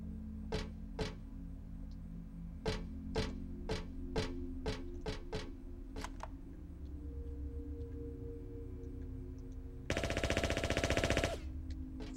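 Gunshots fired in the video game Silent Hill 3, a quick series of about ten sharp cracks in a fairly steady rhythm over a low ambient drone, followed by a harsh burst of noise.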